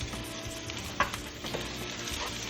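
Butter melts in a hot pan just emptied of seared sirloin steak, with a soft steady sizzle and a few sharp stirring clicks, close and fairly quiet, no voices.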